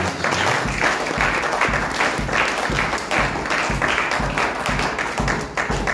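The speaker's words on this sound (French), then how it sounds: "Nous applaudissons le Saint-Esprit." A church congregation claps for the Holy Spirit in a loud, rhythmic unison beat, hands striking together in a regular pulse that runs throughout at close range.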